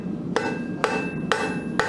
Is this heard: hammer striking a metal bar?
yes